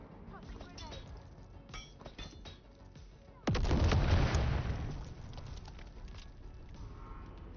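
A single loud grenade explosion in Dune Awakening, a sci-fi game, bursts suddenly and booms for about a second before fading, following scattered gunfire and clinks.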